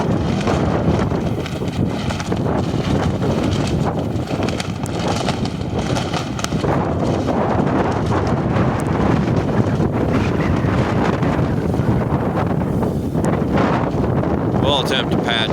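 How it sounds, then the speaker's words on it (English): Strong, gusty wind from a windstorm roars continuously and loudly, battering the microphone with buffeting noise from start to finish, with no break in its intensity. "it'd really help if the wind had stopped"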